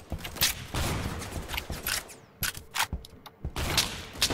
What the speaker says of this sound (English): Hang on, I'm gonna reload.